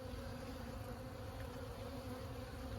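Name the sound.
honey bees buzzing around a hive during inspection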